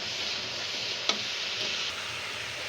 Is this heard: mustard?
yes